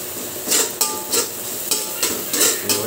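Garlic and onion sautéing to golden brown in a pan, a steady soft sizzle broken by repeated stirring scrapes and light clinks of a utensil against the pan, close and alone.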